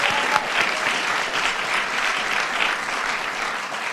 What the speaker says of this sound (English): you deserve a big round of applause for that